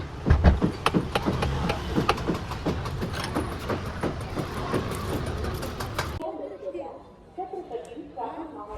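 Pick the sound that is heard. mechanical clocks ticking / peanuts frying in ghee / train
train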